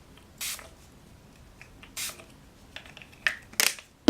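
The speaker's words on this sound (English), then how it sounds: "I like to just spray a little bit of the facial spray" Short bursts of misting spray, a few quick spritzes spaced apart with quiet pauses between, close by and fairly soft.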